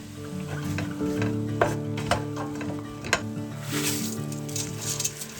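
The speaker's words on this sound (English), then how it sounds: "we're gonna add in all of our spices and toss them around" Spices being tossed with softened carrots and garlic in a hot pan, a continuous sizzle broken by sharp scraping stirs and clacks about once a second, fairly quiet and close, no talk.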